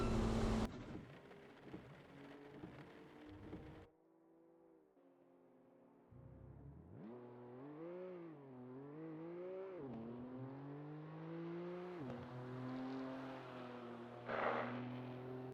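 A race car at Brands Hatch fires up after stalling, its engine catching and revving with rising and falling pitch through repeated throttle blips, loud and close, following a brief quieter lull.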